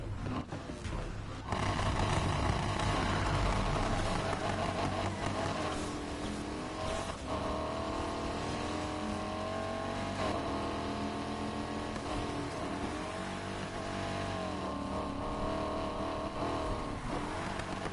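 Late-1960s Mercury Cougar muscle car driven in Need for Speed Heat, loud continuous engine roar with revving rises and gear changes, brief tyre squeal, sustained close throughout with no talking.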